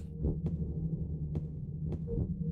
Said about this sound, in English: it's just something that has a creepy heartbeat